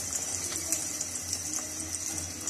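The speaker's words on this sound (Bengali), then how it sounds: "আমি এগুলো ভাজতে দিয়ে দিলাম, খুব অল্প আছে, খুব সুন্দর করে ভেজে নিব আস্তে আস্তে।" Chicken lollipops fry in a small amount of oil over reduced heat, giving an even, close sizzling hiss with faint pops throughout.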